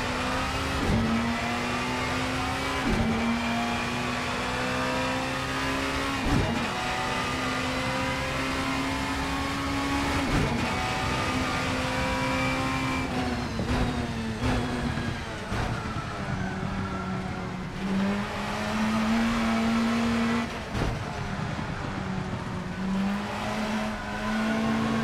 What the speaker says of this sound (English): You're locking your right rear.